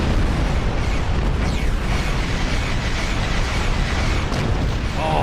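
A torpedo launches and detonates in a Star Trek starship combat game, a loud, continuous roaring blast of rumbling explosion noise that stays dense and sustained through the whole stretch.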